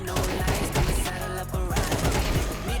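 An AK rifle fires in Valorant, with dense rapid bursts of punchy shots and sharp cracks that nearly fill the moment at a loud, close level and leave barely a pause between volleys.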